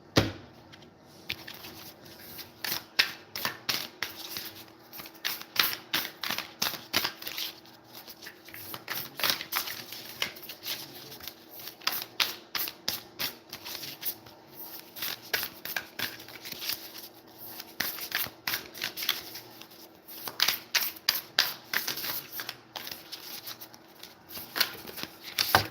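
Affirmation cards riffle and snap in repeated bursts of shuffling with brief pauses between, close and fairly quiet, with no talking.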